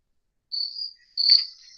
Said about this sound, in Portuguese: eu vou colocar o barulho do grilo